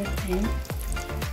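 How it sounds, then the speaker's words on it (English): Halved Italian eggplant lightly frying in a pan, a steady close sizzle with crackling bursts throughout, while a short spoken remark sits over it. "Lightly fry it, both sides."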